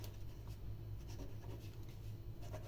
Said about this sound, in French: Moi, je vais écrire ici Joseph